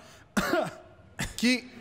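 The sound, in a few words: imitated cough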